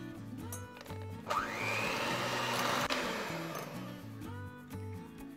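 An electric mixer whisks eggs and sugar in a bowl, switching on with a sharp rising whine, holding a loud steady buzz for a couple of seconds, then cutting off, with music underneath.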